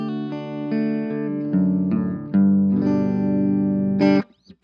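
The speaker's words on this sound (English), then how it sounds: "Here's a clean tone on the Orange Crush 20." Clean electric guitar through an Orange Crush 20 amp set to clean, sustained chords and single notes ringing clearly, close and alone, ending with a brief pick scrape.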